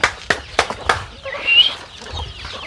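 Native country chickens (nati koli) on a village farm give several short, sharp clucks in quick succession, then a brief higher squawk, close by with no talking.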